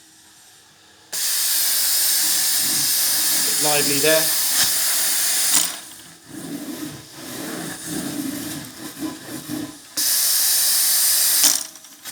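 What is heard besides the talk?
carpet cleaning wand spraying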